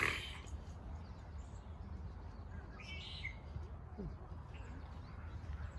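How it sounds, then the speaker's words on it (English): A spotted towhee gives a brief, faint high song in the middle of the recording during an early March birding walk in Vancouver, BC, with other small chirps scattered over a steady low outdoor rumble. "Oh, that was the call and the song of the spotted towhee."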